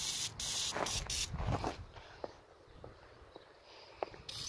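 Degreaser sprays onto a dirt bike engine in several sharp hissing bursts over the first second and a half, then quieter moments with scattered faint clicks and drips.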